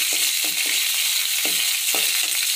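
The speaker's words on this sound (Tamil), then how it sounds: "நல்லா வதக்கிக்கலாம்." Green chillies and curry leaves sautéing in hot oil for a Tamil dal rice, a steady bright sizzle with a few soft stirring scrapes of a spoon against the pan, close and continuous.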